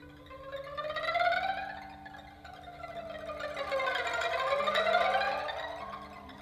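An instrument in a concert imitates blowing wind with sliding, wavering pitches that rise and fall in long gusts over a low sustained drone, swelling louder twice and fading at the end.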